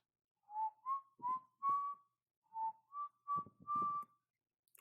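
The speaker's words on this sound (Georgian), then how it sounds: "ზუსტად 4-3 წუთზე სტვენის ხმა გავიგეთ." A person whistles a short eerie tune of eight clear tones in two phrases, each rising or steady, heard close and alone against silence with no talk, as in a spooky neighbourhood tale.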